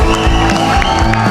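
An audience claps and cheers at a live gathering, a dense, loud wash of applause that fills the whole short moment.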